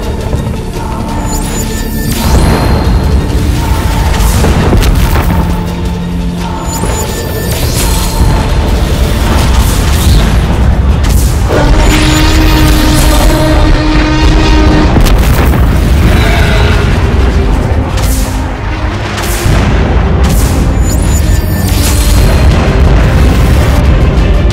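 Energy ball attacks explode during a dinosaur battle involving a Tyrannosaurus, a continuous loud barrage of booming blasts and crashing bursts that fills the whole stretch.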